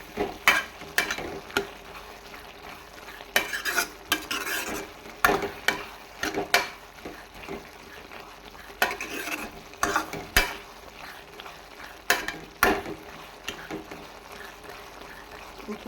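Tomatoes for tomato thokku are stirred as they fry in a pan, with a spoon scraping and clacking in irregular strokes over a soft continuous sizzle, close and fairly loud, with no talking.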